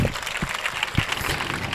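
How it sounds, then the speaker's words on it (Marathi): Audience clapping in a hall at an educational guidance event, a steady, fairly faint patter of many hands with a few louder individual claps standing out. "एकदा हिच्यासाठी जोरदार टाळ्या वाजवा."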